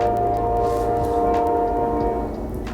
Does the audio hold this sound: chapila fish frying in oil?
no